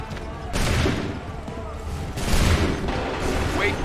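Soldiers in the Assassin's Creed 3 video game fire musket volleys, heard as two heavy, booming bursts of gunfire with rumbling tails, while voices shout over them.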